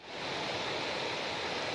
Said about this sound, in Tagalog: napakalakas kasi ng ulan sa taas doon sa bundok so bigla bigla na lang umusod yung tubig